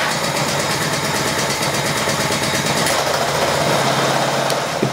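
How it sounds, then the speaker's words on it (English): A 4 horsepower combustion engine mounted on a band saw mill runs steadily, a loud, continuous pulsing drone with heavy vibration and no talk. "I tried to mount a 4 horsepower combustion engine."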